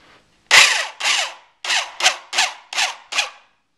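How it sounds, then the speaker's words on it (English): Square-drive panhead pocket screws driven into wood while building a bookshelf, seven loud, close bursts of a power driver whirring, each run a short pulse with brief gaps between them. "I'm just going to use these panhead pocket screws. Square drive. Put it in there."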